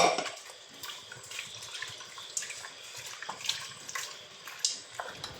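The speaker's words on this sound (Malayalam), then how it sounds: "ഇന്ന് കുറച്ച് വെള്ളം ഒഴിച്ചിട്ട് തിരുമ്മിയെടുക്കണം" Water is poured into a Kashmiri chili powder spice mixture while cooking, giving a quiet trickle with small splashes and drips in a few brief bursts, close and fairly soft.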